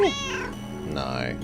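A cat in a cute cat video game gives a clear, drawn-out meow followed by a second rising meow, loud and close over a faint background hum.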